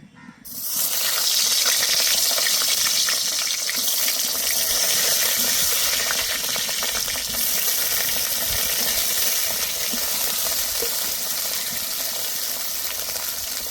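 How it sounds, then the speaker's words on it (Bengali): Eggplant pieces frying in hot oil in a home kitchen give a loud, steady, crackling sizzle that begins abruptly and holds without a break. "এই তেলেই কিন্তু আমি বেগুনগুলো দিয়ে দেব"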